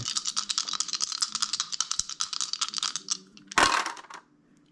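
Dice rattle in a rapid, continuous clatter, then tumble out in one sharp burst, and the sound stops abruptly.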